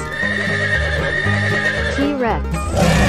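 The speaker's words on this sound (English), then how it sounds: "Horse." A cartoon horse gives a loud, close neigh with a shaky whinny near the end, set over background music and hoof-like clopping.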